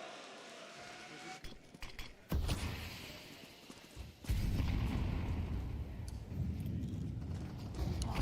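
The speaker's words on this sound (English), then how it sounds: "second nade to break that open" A grenade explodes in a Counter-Strike match, a loud sudden burst of noise that cuts in midway and leaves a sustained rumbling roar, after scattered clicks and game noises.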